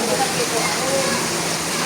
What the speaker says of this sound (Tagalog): Ayos, umuulan. Lakas ng ulan.